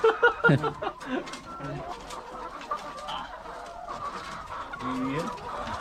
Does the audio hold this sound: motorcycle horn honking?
no